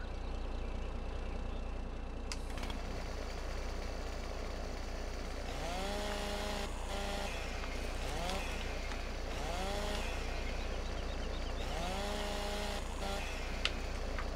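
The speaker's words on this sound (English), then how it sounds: "was that two chainsaws?" Chainsaw sounds in Farming Simulator 17 while trees are cut, a steady droning engine with repeated rising and falling rev sweeps that overlap as if two saws run together, over a constant low hum.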